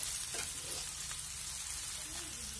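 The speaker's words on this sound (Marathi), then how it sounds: "आता आपल्याला ह्या मिरचीमध्ये असे बटाट्याचे स्लाइस घालून व्यवस्थित परतून घ्यायचे" Potato slices sautéing with green chilies in a pan, a steady soft sizzle of frying with faint stirring scrapes, close and continuous with no talk.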